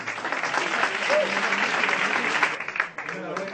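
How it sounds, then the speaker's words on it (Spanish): Steady applause from an audience at an award ceremony for the second prize winner of a youth technology innovation project, dense clapping sustained throughout and thinning briefly near the end. "Un aplauso para él."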